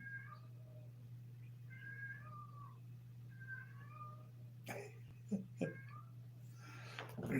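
A white cat meows several times in short, high, close calls, with a steady low hum underneath and a few sharper knocks and rustles near the end.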